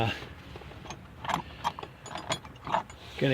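Working loose a Torx T30 bolt on a GM 3.4L engine in a tight spot: a series of short metallic ratchet clicks and tool clatter in uneven bursts, close and moderately loud, with faint background noise.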